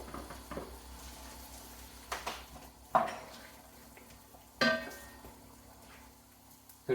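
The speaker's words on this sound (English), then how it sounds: "butter and olive oil getting nice and hot" Onions, celery and garlic sizzle faintly in hot butter and olive oil in a pan, a soft steady hiss with a few sharp clinks and knocks of utensils against the pan.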